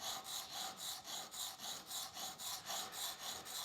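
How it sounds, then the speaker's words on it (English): A restored wood chisel is honed by hand on a coarse sharpening stone, giving about a dozen quick, steady back-and-forth scraping strokes, close up and with no other sound. "I'm just going to hit it with this coarser stone lightly and do most of my honing on the finer stones"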